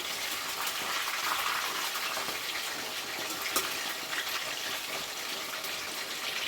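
Chicken deep-frying in hot oil, giving a loud, steady sizzle that runs without a break from start to finish, with no voices.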